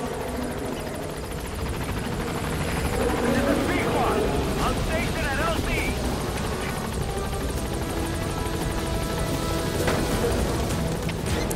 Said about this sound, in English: And so here's our helicopter.